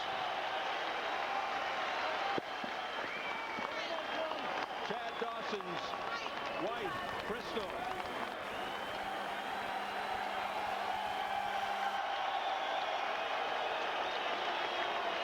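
Fans at a boxing arena applaud and cheer after the Chad Dawson versus Glen Johnson fight, a broad, steady wash of crowd noise heard at a distance under a commentator's voice.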